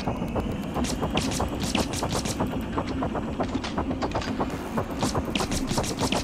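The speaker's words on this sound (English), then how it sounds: "Gonna go in and shoot him with a gun." Rapid gunfire in the video game Prey, a dense, steady stream of sharp shots repeating quickly for several seconds, loud and close under constant mechanical clatter.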